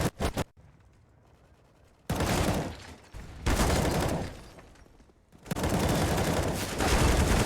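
Rapid gunfire from the Counter-Strike map Vertigo during a competitive esports match, with loud, dense bursts of automatic shots separated by quieter pauses.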